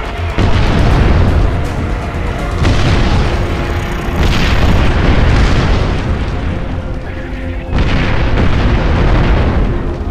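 Artillery site blowing up in Far Cry 4, heavy booming explosions rolling in loud successive waves with a dense rumbling roar, alone without talk.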